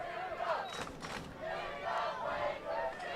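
A high school football crowd cheers along with cheerleaders in the stands, a distant wash of shouts and chanting voices that swells and dips in uneven waves at a moderate level.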